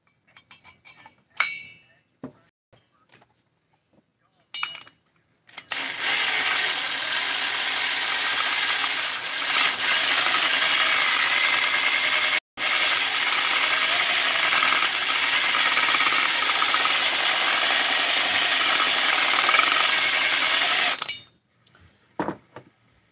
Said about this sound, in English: And as you grind more, the dome actually gets smaller and smaller and smaller, increasing compression.